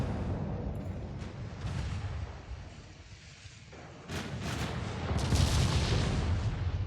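Naval guns fire at ships in the warship game Ultimate Admiral Dreadnoughts, giving heavy booming reports and rumbling blasts over a low continuous roar. The bursts come in uneven clusters and grow louder toward the end.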